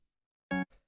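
A Rhodes electric piano chord warmed by a drum bus effect sounds as one short, full stab followed by a softer, briefer echo of it, isolated against silence.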